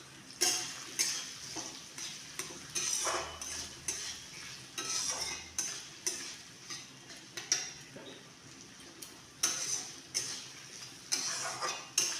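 Chopped onions with green chilies and capsicum frying in hot oil for a vegetarian potoler dorma, with a soft sizzle under regular scraping strokes of a spatula stirring the pan, close and moderately quiet, roughly one stroke per second.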